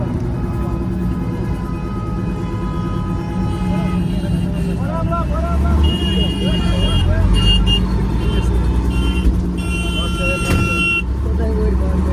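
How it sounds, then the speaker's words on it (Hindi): Highway traffic in Srinagar, Kashmir: a steady, loud roar of passing vehicles with engine rumble and occasional horn-like tones, with people talking over it. "शाम को यहाँ ट्रैफिक से निकलने में भी हमें काफ़ी समय लग गया।"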